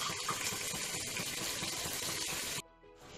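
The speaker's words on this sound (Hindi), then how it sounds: "2 टेबल स्पून के करीब मैं इसमें पानी ऐड करूँगी" Water pours steadily into a spice grinder jar in a home kitchen while Hyderabadi chicken korma is cooked, a close, continuous splashing rush that stops abruptly near the end, leaving a quiet tail.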